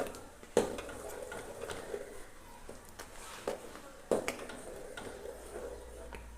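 Quiet stirring in a pan as an amla candy mixture with lemon juice is mixed, with soft scraping and a few sharp taps of the spoon against the pan.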